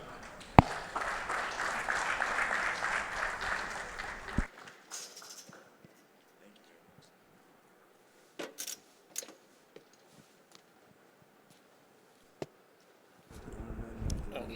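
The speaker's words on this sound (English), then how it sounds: "Please, a round of applause for Temitope Taiwo." Applause for a sponsor's representative at an oil and gas technical symposium, a dense clapping burst for about four seconds that cuts off into near silence broken by a few scattered knocks and footsteps, then low murmur at the end.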